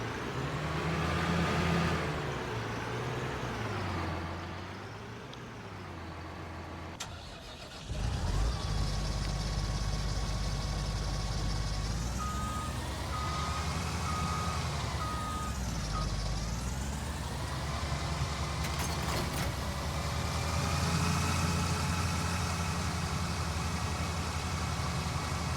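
A tractor in Farming Simulator 19 runs its engine with a steady droning idle that rises and falls in pitch, briefly drops out, then restarts loud and continuous, with occasional beeping tones over it.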